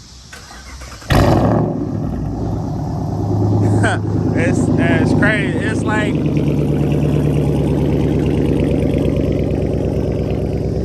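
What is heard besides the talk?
catless Chrysler 300 Hemi engine starting and idling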